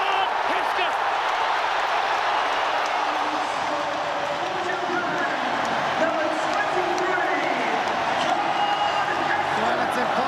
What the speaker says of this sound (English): it's impossible to get a word in here amongst the roar of the crowd